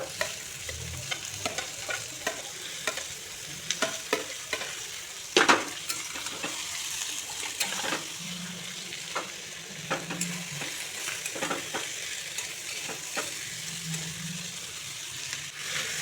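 Spice paste for a vegetarian Malabar spinach dish sautés in a pan, a steady sizzle broken by frequent sharp spatula scrapes and clinks against the metal, close and clear with no talking.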